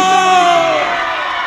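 A live carnival crowd shouting, whooping and cheering at a show in Salta, a loud sustained roar with a high voice rising above it.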